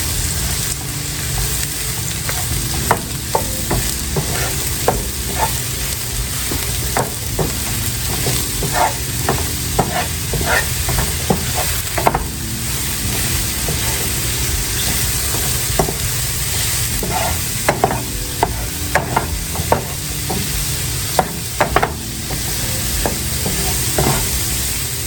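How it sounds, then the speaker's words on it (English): Mushrooms sautéing in a pot with a loud, continuous sizzle, broken by scattered scraping and stirring knocks of a utensil. "And we're just gonna saute these until they are cooked."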